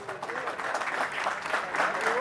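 Audience applause at a livestock and farm products auction, a moderate steady patter of claps with voices talking over it.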